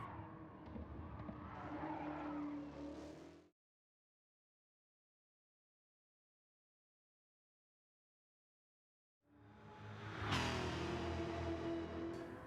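Toyota Yaris with a swapped engine sliding its tail in Gran Turismo 7, tires skidding and squealing over engine noise in two loud bursts separated by a long silence.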